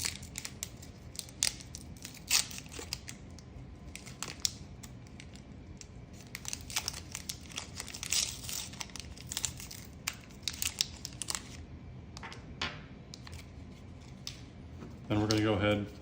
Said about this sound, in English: we're going to remove our 3 milliliter sterilized cartridge